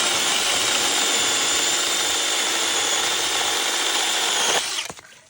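An 8-inch, 21-volt battery mini chainsaw cuts through an oak branch with a loud, steady, high motor whine that stops abruptly near the end.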